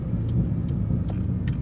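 Steady low road rumble from a car with worn, noisy wheel bearings, a constant droning hum at close range with no voices.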